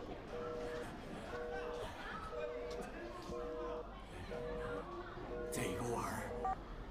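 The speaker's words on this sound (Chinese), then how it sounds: "我给他打个电话。" A telephone number is dialed as a series of clear keypad tone beeps in a steady, evenly spaced rhythm, heard over faint background chatter.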